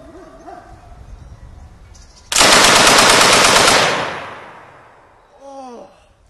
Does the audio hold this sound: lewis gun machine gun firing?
yes